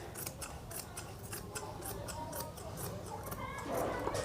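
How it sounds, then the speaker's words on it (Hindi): Scissors snip through cloth while cutting a suit for a young girl, giving a quick series of close, crisp clicks at an even rhythm over a low background hum. "तो यहाँ कैंची की मदद से जो है नीचे के हम निशान को इस तरह से लगाएंगे।"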